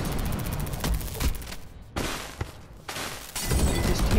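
Weapon fire from a taser in a video game, sounding as a rapid series of sharp crackling bursts with brief quiet gaps between volleys, loud and close.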